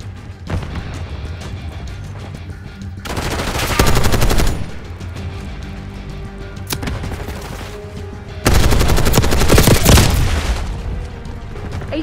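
Bursts of automatic gunfire from a Call of Duty Black Ops 6 match, with two dense, loud volleys and scattered shots and booms between them, no one talking.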